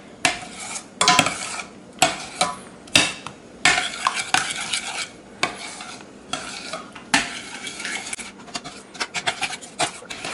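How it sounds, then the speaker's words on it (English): A spoon stirs vanilla into hot, thickened custard in a pot for coconut cream pie, bursts of scraping and clinking against the pan, close and fairly loud, coming in uneven strokes. "Stir that good."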